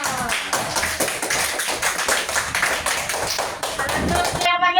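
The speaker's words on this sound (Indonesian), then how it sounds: "Tepuk tangan dulu untuk kelompok primer." Primary school classroom of children clapping for a group, a lively rhythmic patter of small hands tapping close by, with talk mixed in.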